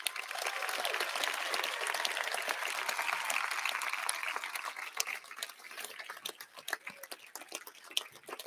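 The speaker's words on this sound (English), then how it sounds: "I ask Cavalier Nation to put their hands together in a round of applause for" Graduation commencement audience at a high school ceremony applauding, a dense sustained wash of clapping from a large crowd that holds steady for several seconds, then thins into scattered, sparser claps toward the end.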